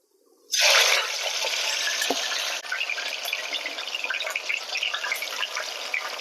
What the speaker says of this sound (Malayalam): ഇവിടെ എണ്ണ നന്നായിട്ട് തിളച്ചിട്ടുണ്ട് നമുക്ക് ഈ ചേന ഇട്ട് കൊടുക്കാം കുറേശ്ശെ ചിട്ട് വറക്കാം